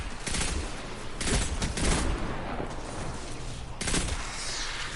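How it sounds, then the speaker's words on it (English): Big arc-energy explosion from a slow rocket in the Destiny 2 video game, a loud crackling burst that rumbles on and flares again near the end, with no talking. "It's got this big arc explosion."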